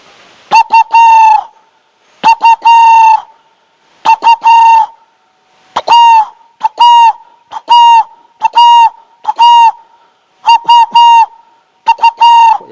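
A person imitates a spotted dove's call by blowing through cupped hands and fingers, producing loud, hollow, trembling coos in short repeated bursts, about ten phrases separated by brief silences, close and clear with no other sound.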